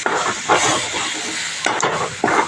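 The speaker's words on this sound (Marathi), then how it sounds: "आता कलर आल्यानंतर आपण यामध्ये टाकूया टमाटर आणि आता बघा टमाटर मस्त मिक्स करून घ्यायचं" Tomatoes stirred and fried in a pan with onions cooked until browned, giving a steady close sizzle and hiss with a few louder scraping stirs.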